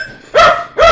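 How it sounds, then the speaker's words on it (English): A dog barks twice indoors, two loud, sharp, close barks about half a second apart, with a faint hum before the first. "Oops, the dog's saying hello to somebody."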